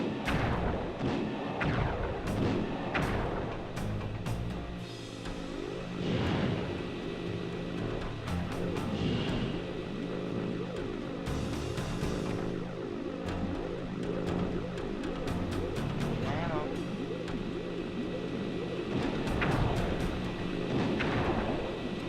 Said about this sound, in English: why is my tank getting destroyed?